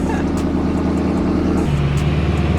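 Ford Mustang with a modified twin-turbo 5.0 V8 engine, heard as a loud, steady, deep engine drone from the car with a slight shift in pitch partway through.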